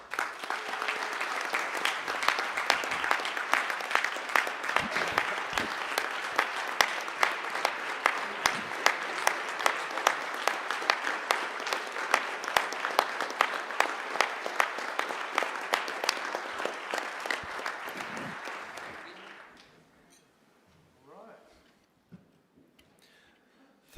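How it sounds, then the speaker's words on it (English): Delegates at a World DanceSport Federation annual general meeting give a round of applause, sustained clapping in a meeting room with some sharp individual claps, lasting about nineteen seconds before fading out into quiet with faint movement. "maybe a round of applause to the Spanish Federation for such organization"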